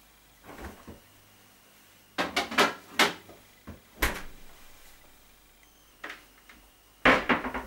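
In a home kitchen, a refrigerator door opens and shuts with several close thumps and clunks, separated by quiet gaps.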